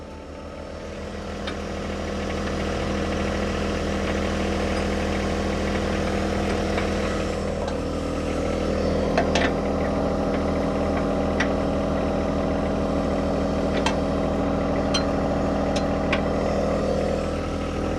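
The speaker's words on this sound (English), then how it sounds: "we're just going to use the bucket to push the backhoe all the way till it bottoms out against the tractor" Steady loud diesel engine rumble from a tractor using its bucket to push a backhoe attachment into place, running continuously with faint metallic clanks now and then.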